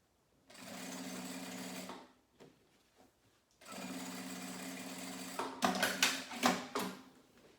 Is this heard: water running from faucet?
no